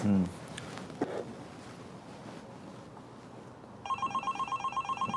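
A telephone rings in a domestic drama scene during a birthday celebration, breaking in after a quiet stretch as a steady series of repeated electronic bell pulses, clear and fairly close over a low background hum.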